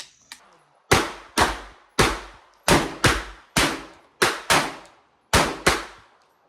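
A Panzer Arms Turknelli shotgun fires 3-inch magnum shells in a rapid string of about eleven loud, sharp blasts, often in quick pairs, each decaying quickly into brief silence.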